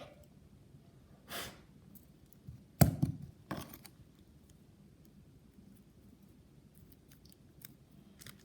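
Scissors snip away excess material around a handmade student ID card in a quiet room, with a few short separate cuts, the loudest near the middle, and faint rustling between.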